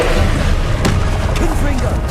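Fire spell cast in Hogwarts Legacy: a dense, roaring burst of game effects with a thudding boom partway through, loud and continuous over the whole short stretch.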